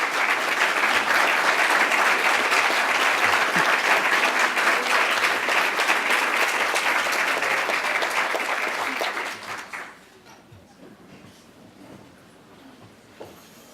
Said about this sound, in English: Can we give her another round of applause, please?